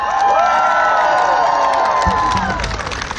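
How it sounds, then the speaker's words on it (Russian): A large outdoor concert crowd at a Moscow City Day event cheers and whoops with sustained, roaring energy, a dense wash of voices filling the space. "Громче аплодисменты."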